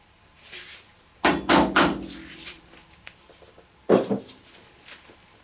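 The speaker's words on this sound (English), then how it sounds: "Now the trick is to get the head of the screwdriver as far into the screw as possible." A screwdriver is tapped into a dirt-filled rusty screw on an old scrapyard lawn mower, giving a close burst of three sharp knocks, then a quieter pause and two more knocks.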